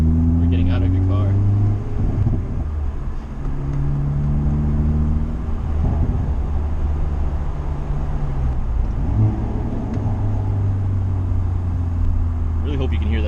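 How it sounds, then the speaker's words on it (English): A Hyundai Veloster N exhaust rumbles steadily and loudly up close, with someone talking over the engine note throughout. "Really hope you can hear that exhaust. It sounds really good."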